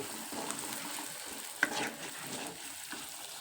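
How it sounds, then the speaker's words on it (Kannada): Gentle sizzling and bubbling of egg gravy simmering in oil in a pan, with a few soft stirring scrapes and a brief clink. "ಈ ಥರ ಇದನ್ನ ಎಣ್ಣೆಗೆ ಕುದಿಸ್ಕೋಬೇಕು ರೀ ನೋಡ್ರಿ ಆಲ್ರೆಡಿ ಎಲ್ಲ ಕುದ್ದೈತಿದೆ"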